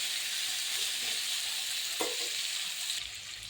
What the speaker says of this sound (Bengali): আমি আলুটা একটু ঢেকে ঢেকে ভেজে নিয়েছি, একটু লাল হয়ে গেছে